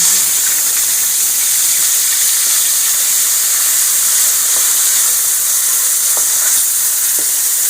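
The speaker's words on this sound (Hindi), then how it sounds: "घी मैंने गर्म करने के लिए रख दिया। और अब मैं इसमें ये प्याज डालने लगी।" Chopped onions sizzle in hot ghee at the start of a desi chicken curry, giving a loud, steady, close hiss of frying that carries on without a break.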